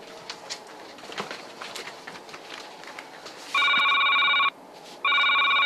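A landline telephone rings with two loud electronic trilling bursts, close by, after a stretch of quiet outdoor ambience with faint birds, cooing pigeons and scattered light clicks.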